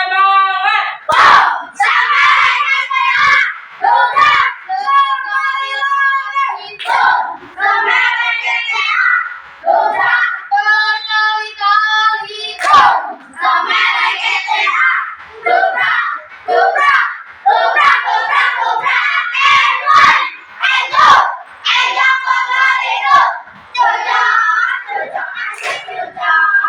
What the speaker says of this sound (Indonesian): coba sekarang sekali lagi ya, tepuk semangat